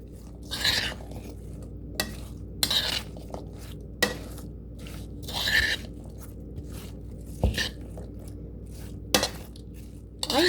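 Chopped cranberries and sliced celery being mixed in a bowl, with irregular clinks and scrapes of a utensil against the bowl, separated by quieter stirring and wet rustling, close and alone.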